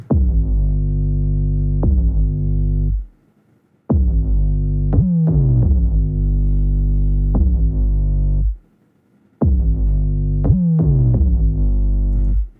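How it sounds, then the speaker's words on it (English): Deep, booming 808 bass notes swell and duck rhythmically under sidechain compression from the kick, sliding in pitch, with brief silent gaps between phrases; loud and alone. "So this is what the 808 sounds like."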